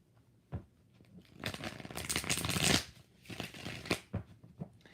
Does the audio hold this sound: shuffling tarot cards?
yes